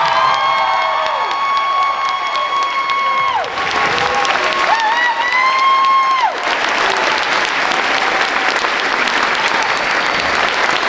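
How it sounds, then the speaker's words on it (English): A crowd at a high school spring choir concert breaks into loud, sustained applause with some cheering, mixed with held sung or sustained tones early on, then dense clapping filling the room. "So please stand up and give a giant round of applause."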